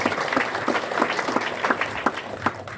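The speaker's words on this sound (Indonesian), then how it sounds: "mari kita semua beri tangan" An audience at a business seminar in Jakarta claps in a fairly rhythmic, unison pattern, with sharp evenly spaced beats over a softer wash of hands.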